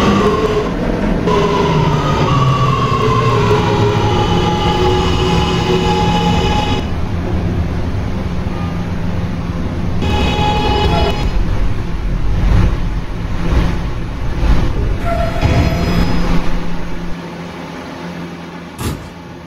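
Onboard an R211A subway car on a New York E train, a loud steady rumble of wheels and motors with shifting tones and rattles as the car rides, easing toward the end.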